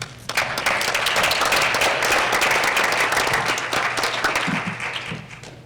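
Sustained applause from an audience at a Board of Education meeting as students come up for a photo with the board, dense steady clapping that starts abruptly, holds near and loud for about five seconds, then fades.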